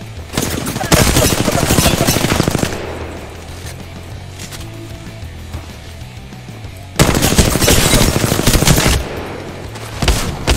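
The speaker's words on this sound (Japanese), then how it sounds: "俺は2発もエヴァ8を撃ったのに" EVA-8 shotgun firing in the Apex Legends video game, two dense bursts of rapid, loud, close gunfire separated by a quieter stretch, with faint background game sound in between.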